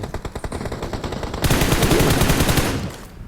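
Automatic gunfire in the mobile battle royale game PUBG Mobile crackles in quick, loud bursts, starting with spaced rapid shots and then swelling into a dense, continuous volley.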